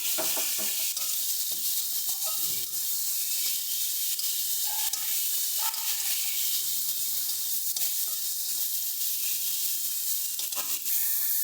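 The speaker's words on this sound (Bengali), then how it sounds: "টমেটোটাকে দিয়ে ভালো মতন করে মিনিট দুয়েক মতন নাড়াচাড়া করতে হবে যাতে টমেটোটা ভালো মতো নরম হয়ে যায়" Tomato frying with spices in oil keeps up a steady, close sizzle for several seconds, with scattered scraping and clattering as it is stirred around the pan, and no one speaking.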